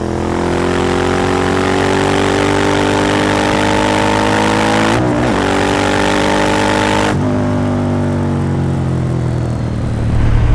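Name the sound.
Suzuki SV 1000 S 2003 twin-cylinder motorcycle accelerating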